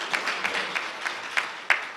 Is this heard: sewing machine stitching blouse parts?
no